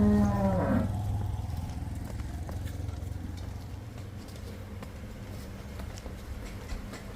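Cattle and buffalo at a farm sale give a loud low moo in the opening second, then the steady murmur and shuffling of livestock continue with no talk.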